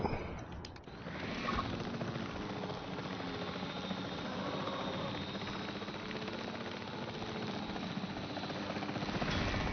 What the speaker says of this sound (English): Now let's get that helicopter out.